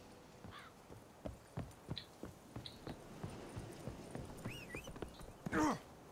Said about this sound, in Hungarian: Gyere, lovacska!